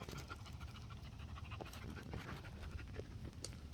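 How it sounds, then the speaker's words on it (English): A dog pants steadily on a wooded trail at North Hampton Furnace in Timonium, Maryland, quick rhythmic breaths close by and quiet, with faint rustling and no talk. "Me and my dog."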